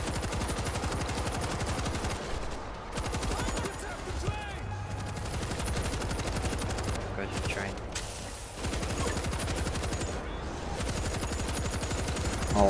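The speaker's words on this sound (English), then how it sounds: "I'm getting on the machine gun." Sustained machine gun fire from a mounted gun in the zombie shooter World War Z, dense rapid bursts with a few brief pauses, loud and close, with a voice speaking over parts of it.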